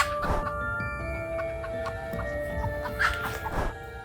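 Chickens clucking outdoors among trees, steady overlapping clucks and short calls at moderate distance over a constant background hum, with a couple of louder bursts near the end.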